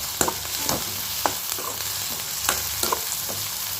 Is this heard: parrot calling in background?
no